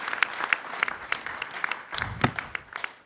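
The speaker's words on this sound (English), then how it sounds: "Let's clap again for our Group Managing Director and CEO." An audience at the United Bank for Africa annual general meeting applauds, with steady, moderately distant clapping that holds for several seconds. No one speaks.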